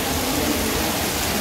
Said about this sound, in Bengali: আর যথেষ্ট ভালো বৃষ্টি হচ্ছে